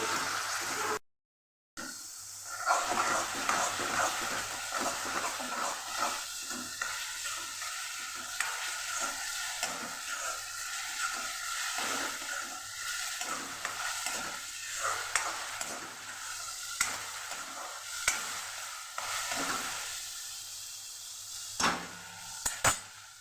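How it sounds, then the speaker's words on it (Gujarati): A steady sizzle and crackle of onion paste frying in a hot pan, with occasional scraping and stirring sounds throughout, no voices. "ડુંગળીને આપણે સરસ સાંકળી લઈશું"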